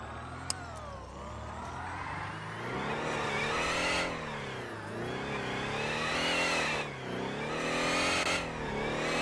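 Electric drift car in a racing game, its motor giving a steady whining rev that rises and falls in sweeping pitch over several seconds, loud and continuous with no talk.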